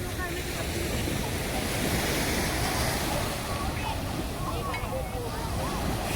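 Surf on Miramar beach in Goa washes in a steady, loud roar with wind buffeting the microphone throughout.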